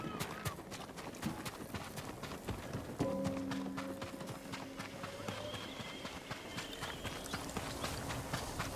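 A horse gallops in the Ghost of Tsushima video game, its hooves clip-clopping in a quick, steady rhythm close by, with brief game tones and a voice in the background.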